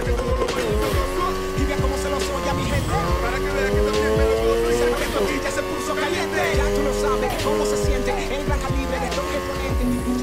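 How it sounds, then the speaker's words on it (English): Car drifting in the racing video game Need for Speed Heat, its engine roaring loud and steady throughout with rising and falling revs, overlaid by sustained squealing tires through the slide. "Now try and hold those drifts."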